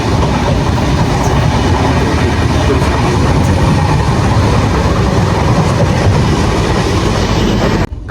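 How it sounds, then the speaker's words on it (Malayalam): A train runs on the rails on the Kannur to Trivandrum route, giving a loud continuous rumble with rhythmic wheel clatter throughout, close by and steady before a sudden drop at the end. "നമ്മളെ ട്രെയിൻ ഇതാ വിദൂരതയിൽ നിന്ന് വരുന്നുണ്ട്"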